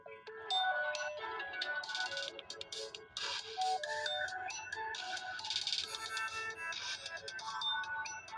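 A phone ringtone plays a bright, repeating electronic melody that runs continuously and fairly loud, with no voices over it.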